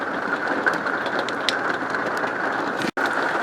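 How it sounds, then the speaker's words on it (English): Rain patters steadily on the roof of an RV, a constant dense hiss of drops with a few brighter taps and a brief dropout near the end. "you can hear the sound of the rain on the roof"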